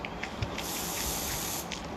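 An aerosol can of insect spray released in one sustained, close hiss lasting about a second, with a faint clicky background and no voices.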